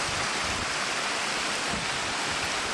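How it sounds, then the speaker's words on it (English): A waterfall near Skagway, Alaska pours down into a river gorge below, a steady, dense roar of rushing water filling the whole stretch without voices. "Here's the other side of the waterfall. It's going down there, going down to the river"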